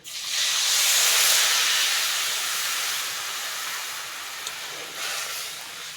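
Fish curry broth with salt, turmeric and chili powder coming to a rolling boil in a pot, a loud steady hissing bubble that swells early, then settles into a quieter simmer.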